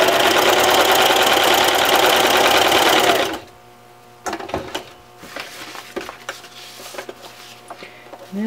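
A sewing machine stitches a baby bib apron in a fast, loud, steady run for about three seconds, then stops, leaving light handling clicks and rustles of fabric.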